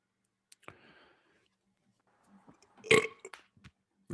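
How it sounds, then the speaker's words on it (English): A single loud burp erupts near the middle of a quiet stretch, preceded by faint rustling and a short breathy sound, with a soft click toward the end. "Was that you burping or him?"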